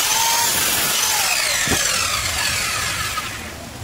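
A Bitec CM 190Y cutting machine saws through material, producing a loud continuous high whine and grinding rasp that holds steady for several seconds, then eases slightly toward the end, with no speech.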